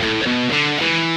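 Dry distorted electric guitar with the reverb switched off, sounding a few sustained notes that change pitch roughly every quarter second, close, loud and alone.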